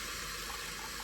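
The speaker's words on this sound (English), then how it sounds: "What you do is you add in just some water." Water poured into a pot of tomato rice, a continuous close gurgling fill with steady flow and no voices.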